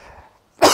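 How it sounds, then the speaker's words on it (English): A single sharp, loud cough bursts out after a brief quiet pause, following faint low murmuring, near a potting bench with soil, perlite, orchid bark and worm castings. "inhaled a bit, or I might just be coughing"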